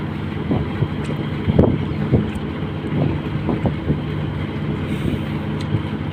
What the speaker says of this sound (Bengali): এখানে তেলের জাহাজ আছে এই জন্য প্রচুর পরিমাণ শব্দ আসতেছে